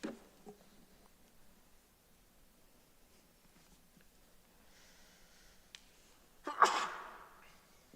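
A single loud sneeze bursts out in a quiet plan commission meeting room, preceded by faint breaths and small rustles before the sharp, close blast near the end.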